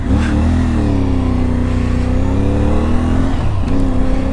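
An IBEX 450 motorcycle engine drones loudly and steadily while riding, a constant close mid-pitched hum with slight throttle shifts and no talking.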